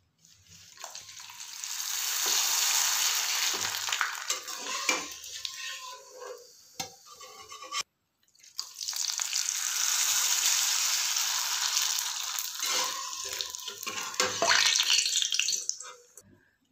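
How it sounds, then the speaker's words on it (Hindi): Potato papad hits hot oil and frying erupts into a loud, close hiss that runs for several seconds, breaks off briefly, then surges again before fading. "आपको एक पापड़ ये वाला भी मैं तलकर दिखा रही हूँ"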